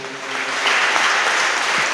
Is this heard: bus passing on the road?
no